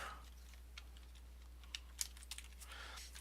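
Typing on a computer keyboard while entering weapon damage effects in a tabletop game program, faint scattered key clicks at close range over a low steady hum.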